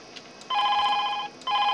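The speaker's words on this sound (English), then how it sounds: "and it rings this phone" A desk telephone on a PABX W4P300 intercom system rings in two electronic bursts, a long ring followed after a short pause by the start of a second, clear and fairly close with no talk.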